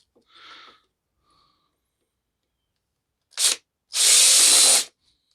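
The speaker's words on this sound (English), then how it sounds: "Grab our handy dandy drill." A few faint brief noises, then a short whir followed by a louder, sustained burst of a power drill spinning for about a second while tightening a nut.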